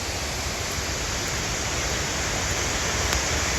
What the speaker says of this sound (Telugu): మా ఒక రేంజ్లో పడుతున్నాయి వాటర్ ఫాల్ మొత్తం